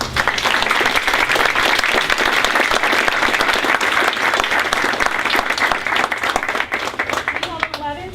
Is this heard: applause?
yes